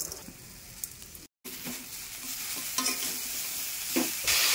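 Vegetable stalk curry with jackfruit seeds, turmeric and mustard paste being stirred in a pan, with repeated scraping strokes over a steady frying sizzle and one brief silent break.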